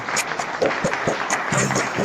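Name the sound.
audience applause at a conference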